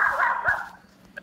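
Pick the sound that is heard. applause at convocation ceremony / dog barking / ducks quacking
dog barking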